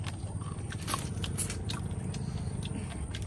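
Spicy crab curry is eaten by hand outdoors in the Sundarbans, with close, soft crunching, cracking of shell and wet chewing sounds repeating over a steady background hiss.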